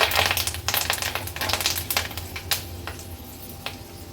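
Curry leaves dropped into hot tempering oil with mustard seeds, cumin, asafoetida and fenugreek seeds crackle and spit in sharp, close popping bursts over a steady sizzle, loud at first and thinning out toward the end.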